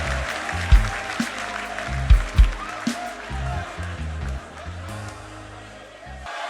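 Audience applause rises at a church youth conference, a crowd clapping in a large hall, with music in the background.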